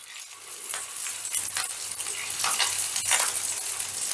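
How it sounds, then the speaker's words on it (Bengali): Rohu fish pieces frying in hot oil in a pan, a loud continuous sizzle with crackling bursts swelling as more pieces go in, close by and alone. "এবারে একে একে মাছগুলোকে দিয়ে দিলাম"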